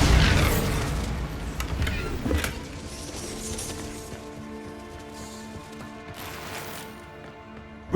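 A Bombarda blasting spell cast in Hogwarts Legacy sets off a loud explosive boom with a few crashing bursts, then a rumbling tail that fades over several seconds.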